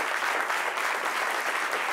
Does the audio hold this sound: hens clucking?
no